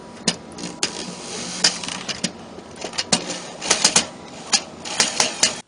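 Pocket hole screws are driven into wooden drawer box boards held in angle clamps, with irregular sharp clicks and short bursts of a drill or driver over a steady background hum.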